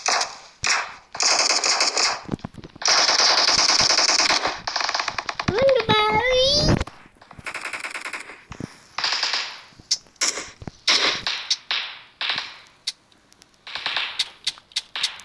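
Rapid bursts of automatic gunfire in the mobile game PUBG, loud clattering strings of shots repeating in stops and starts, with someone talking and game sounds between bursts.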